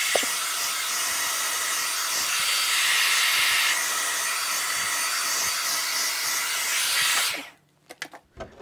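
An R/C car body is spray painted in slow, light coats: a loud, continuous close aerosol hiss runs for about seven seconds, then stops, leaving a few faint clicks and knocks.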